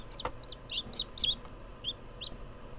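Newly hatched chicks cheeping, a quick series of high thin peeps, several close together and then a few spaced out, fairly faint over a quiet background.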